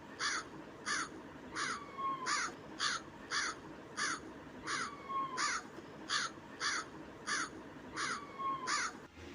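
A crow caws again and again in harsh, repeated calls, some grouped in quick pairs, heard over a steady rushing outdoor background.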